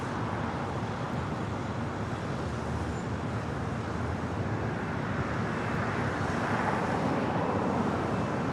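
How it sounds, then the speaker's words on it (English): Heavy roar of an El Al Boeing 787 Dreamliner departing runway 25 right at LAX, a dense steady broadband engine wash holding loud throughout, no voices. "the LL Dreamliner heading back to Tel Aviv, flight 6, next heavy departure on 25 right"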